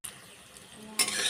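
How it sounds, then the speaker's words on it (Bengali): Fritters of Malabar spinach leaves and lentil batter sizzle softly in oil, then a brief louder scrape and clink of a utensil turning them bursts in near the end. "বড়াগুলো ভালো করে উল্টিয়ে পাল্টিয়ে ভেজে নেব।"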